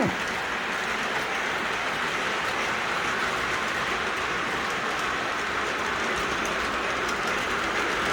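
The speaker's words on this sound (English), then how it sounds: "So there's the trains coming around." Continuous rumbling and clattering of an O gauge model train running along track, steady and close, with no talking.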